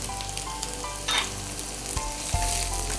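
Onion, green chili, ginger and garlic frying in a pan while being stirred at intervals, a steady close sizzle broken by scraping and clinking of the spoon, with no talk.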